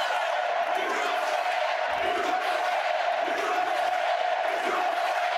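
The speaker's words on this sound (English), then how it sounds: "it's like dark in the arena and they're just screaming with their fists up" An arena crowd at a Trump town hall screams and roars with fists raised, a dense, sustained wall of voices filling the dark hall at steady loudness.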